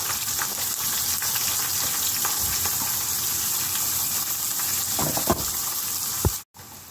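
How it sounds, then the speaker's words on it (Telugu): Curry leaves and chopped onions dropped into hot oil, a loud continuous frying sizzle with a few sharp clatters and crackles near the end before a sudden brief cutout. "ఆయిల్ వేడెక్కింది కదా, ఇప్పుడు రెండు కరివేపాకు రొబ్బలు వేస్తాను. తర్వాత కోసి పెట్టుకున్న ఉల్లిపాయ ముక్కలు వేస్తున్నాను."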